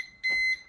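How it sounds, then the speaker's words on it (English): A Kwikset Powerbolt 2 electronic deadbolt lock gives a short, clear electronic beep from its keypad, close and isolated against a quiet background. "beeps twice."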